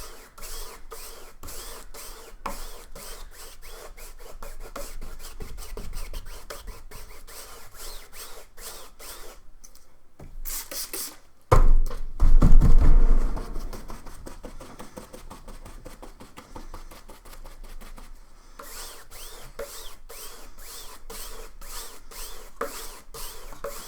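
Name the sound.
drying off a paintbrush to remove acrylic paint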